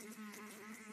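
Flies buzz steadily in a cartoon scene about frogs eating flies, a continuous close insect drone with a wavering pitch and no talk over it.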